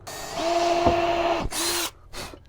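A power drill whirs steadily for about a second and a half while boring into a homemade shotgun cosplay prop, then two shorter bursts follow, close and loud with no talking.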